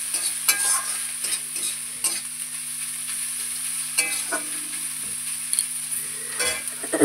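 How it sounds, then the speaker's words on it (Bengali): Pointed gourd seeds and prawns sizzle steadily in hot oil in a pan while a spatula scrapes and stirs in irregular strokes, close and fairly loud with no talking. "দিয়ে খুব ভালো করে ভাজা করবো এটাকে।"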